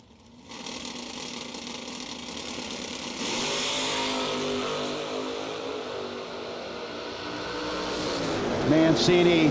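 Drag racing cars including a Mustang accelerate down the strip, engines rising in a steady roar that builds toward the end, with a commentator talking over the noise.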